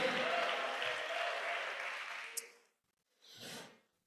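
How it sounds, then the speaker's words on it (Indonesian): Applause for Rohim at a school iftar gathering and SNBP 2025 results announcement, a dense burst of clapping that fades out after about two and a half seconds, followed by a brief soft rustle or breath. "Beri tepuk tangan semangat untuk Nabi Rohim"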